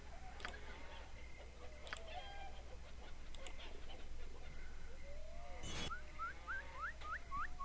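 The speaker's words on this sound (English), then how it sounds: "Right, chicken?" A chicken in Baldur's Gate clucks faintly with short bird-like calls scattered over a steady low hum, ending in a rapid series of rising clucks.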